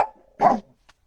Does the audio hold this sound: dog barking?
yes